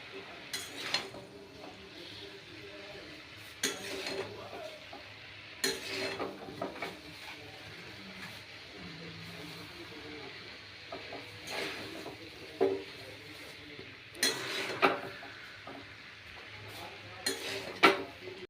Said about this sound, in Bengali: এবার ম্যাগিগুলো দিয়ে এবার নাড়া দেবো